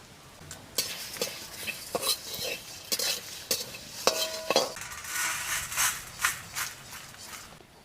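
Whole spices, cinnamon, cardamom, dried red chillies, bay leaves, coriander and cumin seeds, dry-roasting in a pan, with repeated close scraping and clinking stirs over a faint sizzle and no talk.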